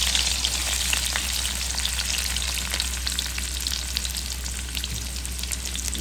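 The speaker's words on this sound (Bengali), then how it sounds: "আমার দিয়ে দিলাম তেল ভাজির জন্য, দিয়ে দিলাম পেঁয়াজ" Onions frying in oil for an okra bhaji make a loud, dense, continuous sizzle close by, with scattered crackles and no voices.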